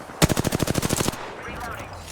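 A rapid burst of about a dozen evenly spaced smart-bullet gunshots in an Apex Legends-style shooter, loud and close, lasting under a second and followed by a fading tail.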